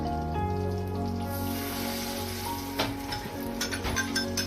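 Puree of chilli, garlic, onion, tomato and ginger dropped into hot oil, hissing and sizzling steadily, up close, with crackling spatters growing near the end.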